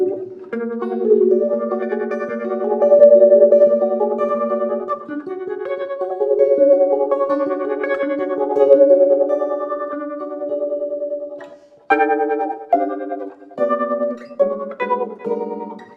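Electric guitar played through reverb and tremolo effects together for a spacious tone, ringing sustained chords and single notes that swell and pulse, with a brief pause before a final run of brighter phrases; no one speaks.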